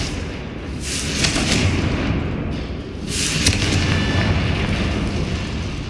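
Explosive Bombarda and Confringo spells cast in the video game Hogwarts Legacy, heard as two loud booming blasts a couple of seconds apart, each with a crackling rumble that spreads over a continuous background din.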